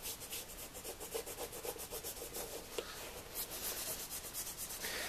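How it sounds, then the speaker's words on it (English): Sandpaper rubbing along the edge of a leather shoe sole in repeated quick back-and-forth strokes, close and quiet, with no other sound. "So when I'm holding the sandpaper, I'm holding the end up a little bit so it doesn't rub against the lip of that design there."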